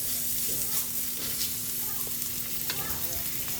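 Garlic and onion frying in a pan for a sweet and sour dish: a continuous bright sizzle with occasional stirring scrapes and a low steady hum beneath.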